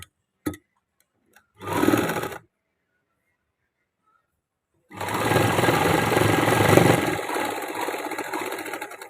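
A sewing machine stitching pleats into a shirt, with two brief stitching bursts early on, a pause of silence, then a longer steady run of close, loud mechanical whirring.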